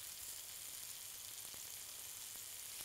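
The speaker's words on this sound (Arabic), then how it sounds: "المهم ان نفس الايه الخطوات، ان احنا بنبتدي بالبصل ونحط معاها الايه الفراخ. انا عايز احمر الفراخ شويه مش كتير" Chicken pieces frying with onions in a pot, a steady, soft sizzle with faint crackles running continuously throughout.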